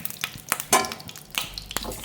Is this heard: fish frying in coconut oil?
yes